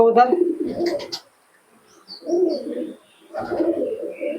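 A Giribaz pigeon of an old line coos close by in low, rolling bursts, three phrases separated by short pauses, with no talk over them.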